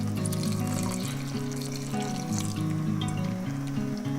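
A cup of water is poured into cooked masala in a mixie grinder jar while making crab curry, a continuous liquid pour heard over a steady tonal background.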